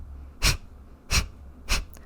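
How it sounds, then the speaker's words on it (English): Three sharp, forceful exhales through the nose come about two-thirds of a second apart in breath of fire yoga breathing. Each is a brief, close hissing burst over quiet background, with a faint fourth puff at the end. "Breath of fire is a series of sharp exhales where the belly snaps back into the"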